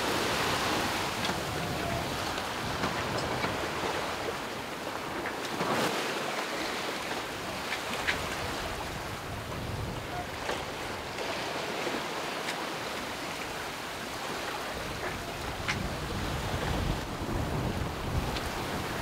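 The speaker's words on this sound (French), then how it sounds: "celui-là, où on voit les vagues se casser dessus" Waves breaking over a shoal at sea off Rhodes, heard from aboard a sailboat: a steady wash of surf and water noise with heavy wind buffeting the microphone throughout, no voices.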